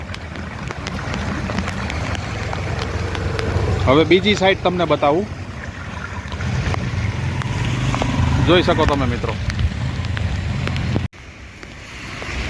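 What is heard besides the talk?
floodwater flowing in overflowing village creek seen from bridge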